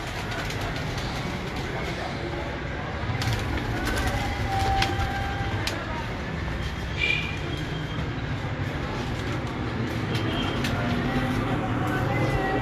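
Teddy pigeons of a Kasur breeder's loft coo softly amid steady outdoor background noise, with brief chirps and a faint rumble like a distant train running through the scene.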